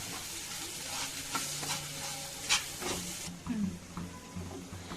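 A spoon stirs chili powder into tomato gravy curry in a pan, scraping and clinking close by over a soft continuous sizzle, with occasional louder knocks.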